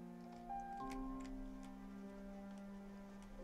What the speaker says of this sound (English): An old antique wall clock